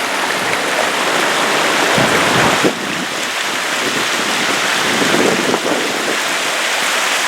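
A loud, close mountain stream rushes and splashes steadily past an undercut bank, a dense continuous watery roar with a couple of brief knocks, no voices.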